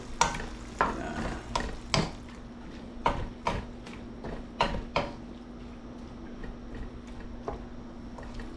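Tomatoes frying in a pan for sautéed pechay, with a steady low sizzle under scattered sharp clicks and taps of a utensil against the pan, loudest in the first five seconds.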